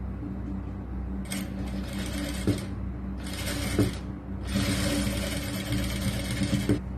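Sewing machine stitching the lining of a churidar top, three bursts of rapid mechanical whirring separated by short pauses, close and clear with faint clicks between runs.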